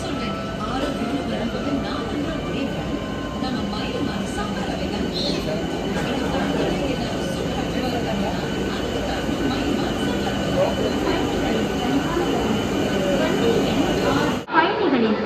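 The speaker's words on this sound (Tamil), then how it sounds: "ஸோ நம்ம ட்ரெயின் பார்த்தீங்கன்னா இப்போ தாங்க ஈரோடு ஜங்ஷனுக்குள்ளேயே வருது." A MEMU passenger train rolls into Erode Junction with a steady, loud rumble and hum of wheels and motors that holds throughout before cutting off abruptly near the end.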